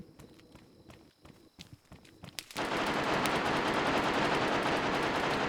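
Rapid bursts of automatic gunfire in DayZ, scattered cracks and shots at first, then a loud, dense, continuous barrage of firing.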